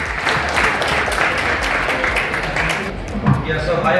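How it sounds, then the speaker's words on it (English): Sustained applause from an audience at a college event at Narula Institute of Technology welcomes a speaker, steady dense clapping that dips briefly near the end, with some voices mixed in. "a round of applause for him"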